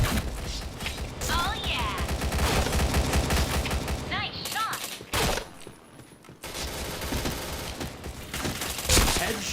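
Dense bursts of gunfire from the Point Blank shooter game crackle in rapid, loud volleys with mechanical clicks and ratcheting, then drop briefly before more shooting resumes.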